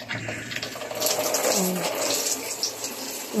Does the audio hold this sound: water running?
yes